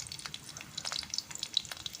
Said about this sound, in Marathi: तेलामध्ये मी हा लसूण टाकते